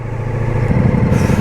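Ducati Multistrada V4 S motorcycle engine running close by, a steady low rumble that deepens and thickens partway through as the revs rise slightly, with no talk.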